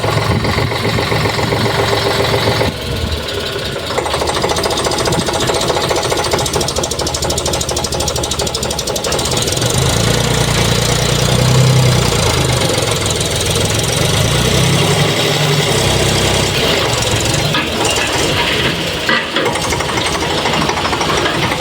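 A heavy tractor diesel engine runs steadily and loudly throughout, with a low rumbling knock and some vibration, close by and continuous.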